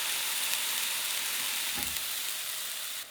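Smashburger patty frying on a hot griddle as it is pressed flat, a steady close, hissing sizzle with a brief heavier crackle partway through, no talking.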